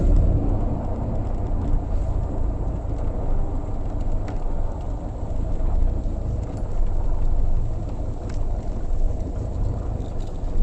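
A Tatra car drives along with a steady, loud, low engine and road rumble, unbroken and droning throughout, with no voices.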